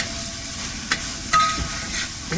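Beef liver with extra garlic paste sautéing in a pan, a steady soft sizzle with brief stirring scrapes and clinks, close and alone.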